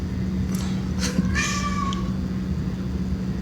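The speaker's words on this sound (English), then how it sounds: "he's gonna have to keep meowing, I guess" A cat meows several times indoors, a couple of short calls followed by a longer drawn-out meow, moderately close over a steady low hum.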